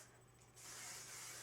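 Hairspray from an aerosol can hissing onto curled hair in one short, steady burst that starts after a brief faint pause and continues at an even level, close by and alone.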